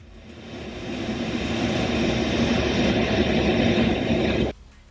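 An A-10 Thunderbolt II attack aircraft passes with a loud, broad jet roar that swells over a few seconds and then cuts off sharply, with no voices.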